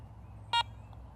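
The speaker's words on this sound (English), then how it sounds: "To power on the detector, simply press the power button." Garrett ACE 400i metal detector giving a single short electronic power-on beep, clean and alone over a faint low hum.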